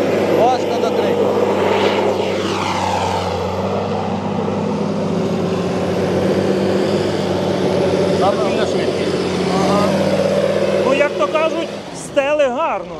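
A heavy tractor engine drones steadily and loudly while straining to pull a plough, with people talking over it; the rumble changes near the end as the machine eases off.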